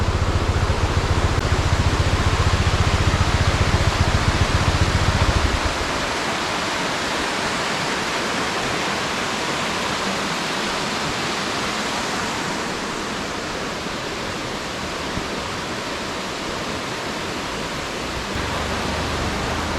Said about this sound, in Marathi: तुम्हाला पाण्याचा आवाज येतच असेल.